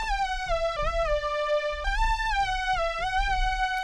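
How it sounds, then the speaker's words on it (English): Detuned saw synth playing a simple repetitive melody of sustained buzzy notes that slide between pitches, over low thumping beat hits, with no voices. "saw detune, and I'm gonna play a melody kind of like this, something very repetitive and simple"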